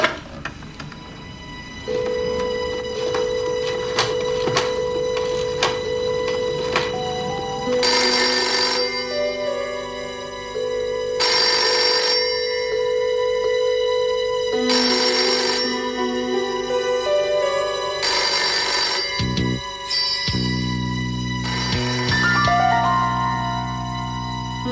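A telephone rings repeatedly in regular bursts over roughly twenty-five seconds, loud and close, with background music and tones sounding between and beneath the rings.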